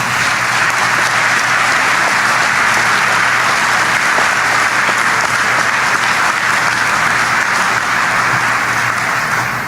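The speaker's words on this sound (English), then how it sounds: "Let's go ahead and give them a hand of applause." Steady, loud applause fills a hall as an audience claps for award recipients at a service ceremony. The clapping is sustained and even throughout, with no voices over it.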